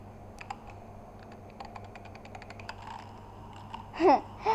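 A username is typed on a computer keyboard in a quick run of close, crisp key clicks, followed by a brief voice at the end.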